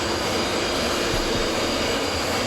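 A Vautour IIN twin-engine jet in Microsoft Flight Simulator roars steadily on takeoff, a loud, continuous broadband engine drone with no breaks or voices.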